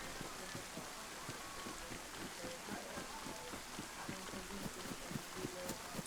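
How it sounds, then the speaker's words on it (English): Rain falling in the video game DayZ, a steady soft patter of drops on surfaces with faint repeated thuds like footsteps underneath, continuous and moderately quiet throughout. "As it starts raining,"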